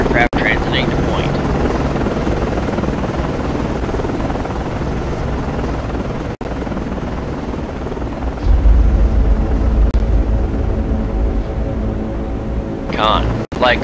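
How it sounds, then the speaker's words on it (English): An SH-60 helicopter in the naval game Cold Waters, flying at night from an Arleigh Burke destroyer, gives a loud, steady rotor and engine drone that runs the whole time, with radio-style voices over it. "Con, Flyco, aircraft is in the air."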